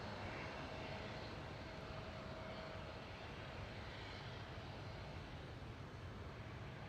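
A KLM Cityhopper Embraer E175 jet departs Amsterdam Schiphol, its engines a steady, fairly faint broadband roar heard from a distance, unbroken throughout with no voices.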